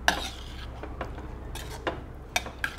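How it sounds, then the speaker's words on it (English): A spoon stirs coconut milk chicken curry in a pot over a medium-high flame, with soft scraping and a sizzle broken by several sharp metallic clinks against the pot. "Stir it nicely, the flame put medium high and let it get cooked."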